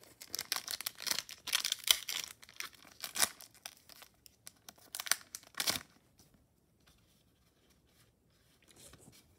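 A thin Pokémon trading card booster pack being torn and crinkled open, close-up bursts of ripping and crackling foil for several seconds, then quieter handling near the end.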